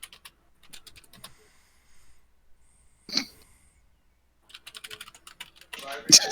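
Computer keyboard typing during an online Dungeons & Dragons session, scattered bursts of quick key clicks with pauses between, fairly close and clear, with a brief sharp noise midway and a louder flurry near the end.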